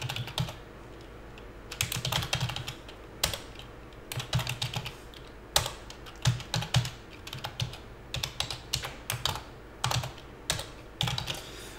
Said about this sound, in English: we're going to come back over here, and we're going to type this in exactly how it reads over there